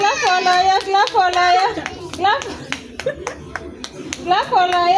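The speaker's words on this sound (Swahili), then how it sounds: "Clap for Loyola" Children clap for Loyola during a water challenge game, a quick run of close hand claps mixed with excited kids' voices and shouting.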